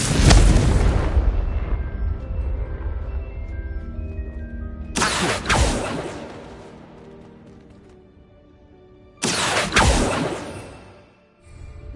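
Three booming explosions from the Confringo fire spell in the video game Hogwarts Legacy, each a sharp loud blast with a long rumbling decay, spaced several seconds apart.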